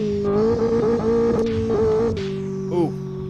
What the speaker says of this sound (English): Plus, this car's on the loud side.